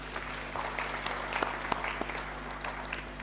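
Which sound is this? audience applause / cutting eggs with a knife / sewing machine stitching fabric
audience applause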